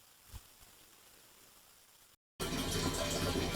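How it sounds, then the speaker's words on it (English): Water pours through a red funnel from a purifying jug into a camper water tank, faint trickles at first, then after a brief silent gap a loud steady gushing fill to the end. "here you can see I'm filling the water tank from the inside"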